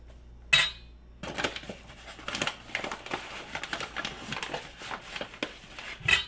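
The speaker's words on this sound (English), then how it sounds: "Next, we're going to add our dry ingredients to our wet ingredients here." Flour and other dry muffin ingredients being added to wet batter in a bowl, with a sharp clink of a measuring cup on the rim, then soft scraping, tapping and rustling close by, with another clink at the end.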